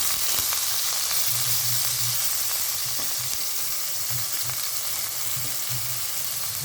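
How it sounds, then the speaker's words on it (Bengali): Chicken pieces for chowmein frying in hot oil, a dense, even sizzle with a low bubbling undertone that holds steady throughout. "তেল গরম হয়ে গেছে, সমস্ত চিকেনগুলোকে দিয়ে দিয়েছি। এবার হালকা করে ভেজে নেব।"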